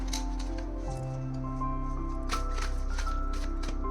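Tarot cards are shuffled and drawn close by, with soft repeated riffling and sliding over a steady background hum and no voice heard.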